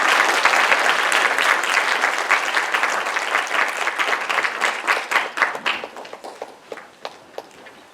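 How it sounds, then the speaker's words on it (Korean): An audience at a lecture gives a big round of applause, dense clapping at first that thins out into scattered individual claps toward the end. "다시 한번 저희에게 귀한 특별 강연해 주신 김영호 장관님께 큰 박수 부탁드립니다"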